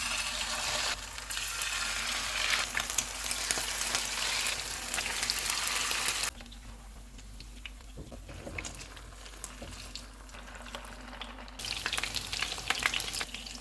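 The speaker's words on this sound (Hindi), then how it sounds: "ऑयल गर्म हो गया, चूल्हे को कम कर देंगे और इसमें कबाब रख देंगे।" Chicken cheese seekh kebabs fry in hot oil on a low flame, a loud, dense crackling sizzle that drops to a quieter simmer midway before flaring up again near the end, with no voices.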